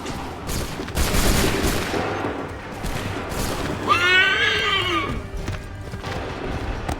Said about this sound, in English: Wait for my signal. Open fire.